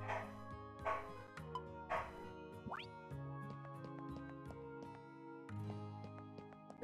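A dog barks a few times in the background, faint and distant, under a steady bed of game music.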